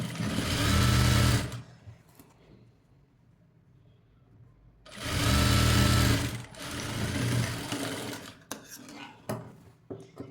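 A sewing machine stitching the sides of a blouse in two loud close bursts of rapid whirring, each lasting under two seconds with a quiet pause between, followed by small handling clicks.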